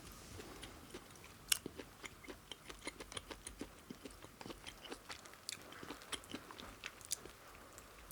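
Close, crunchy chewing and biting of beef pho takeout, with steady irregular mouth clicks and crunches throughout and no talking.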